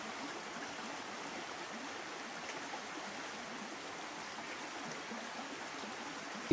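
Steady rushing of Wombat Creek flowing over rocks, a continuous broadband wash with no pauses, fairly close and even in loudness throughout.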